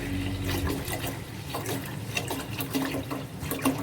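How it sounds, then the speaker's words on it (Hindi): Water poured into a cooking pot of whole masoor dal with spices, a steady splashing, filling wash running close and continuous with small trickling bursts. "पानी डालेंगे इसमें"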